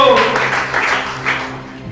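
A church congregation claps steadily while a voice calls out over the applause.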